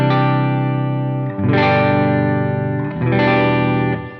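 Electric guitar played through the AmpliTube 5 American Tube Clean 1 amp model: three loud, sustained strummed chords ringing with a bright, full clean tone and a slight shimmer, each one left to ring before the next.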